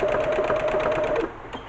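A sewing machine stitches the zigzag front bar of a buttonhole, its needle running in a steady rapid rhythm up close before pausing briefly near the end.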